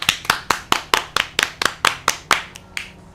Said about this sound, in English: Let's give it a clap, Franco.